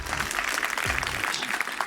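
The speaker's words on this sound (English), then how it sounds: "Round of applause." Applause from a conference audience at an International Women's Day event, a brief steady patter of clapping with a faint low hum underneath.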